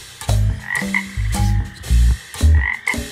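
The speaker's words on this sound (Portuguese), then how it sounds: "Isso mesmo! Esse é o som do sapo." Frog croaking in a garden with a guava tree and rosemary, a series of loud, close, deep throaty croaks in quick bursts, repeating in an uneven rhythm with no talk.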